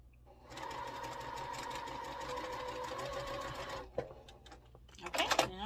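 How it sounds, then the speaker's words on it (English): A sewing machine stitches quilt rows together in one steady, even run of rapid needle chatter, then stops, followed by a few faint handling clicks and rustles. "now we got to just sew the rows together."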